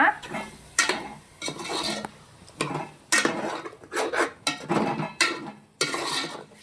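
Ground fenugreek-leaf paste being stirred into chicken for biryani, with repeated short scraping and rubbing strokes of a utensil against a metal pot, close and fairly loud, in an irregular rhythm with brief pauses between strokes.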